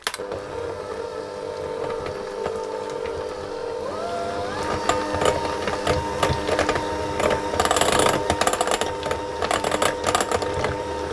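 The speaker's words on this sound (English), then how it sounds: "hand mixer." An electric hand mixer creams butter with custard powder, a loud steady motor whine that shifts pitch upward and then rattles with clattering beater strikes against the bowl, with no voices.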